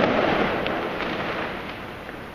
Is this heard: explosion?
yes